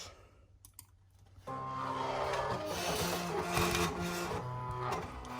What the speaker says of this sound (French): la machine va s'aligner déjà pour trouver les repères d'alignement